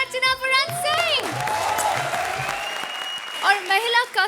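Studio audience applause at a comedy show swells between bursts of speech and music, a steady wash of clapping that holds through the middle before voices return over it at the end.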